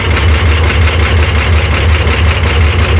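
A rebuilt FC engine idles loudly and close, a deep steady rumble with an even pulsing throb that holds constant throughout.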